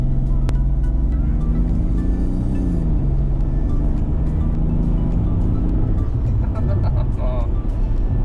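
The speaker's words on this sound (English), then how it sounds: "why am I driving a diesel saloon car?" A BMW 535d twin-turbo diesel saloon car drives along with a constant low engine rumble and road noise, the engine note rising and falling slightly as it runs, with no break throughout.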